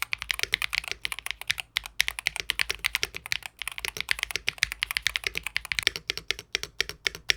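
Fast, steady typing on a Pulsar keyboard fitted with Gateron Hall effect magnetic switches, giving a dense run of crisp, clacky keystrokes up close with a brief pause near the end.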